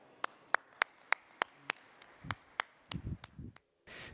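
A conference audience claps for panel speakers taking the stage in a large hall: a steady run of sharp, evenly spaced claps that grows denser and rowdier toward the end, with no talking over it.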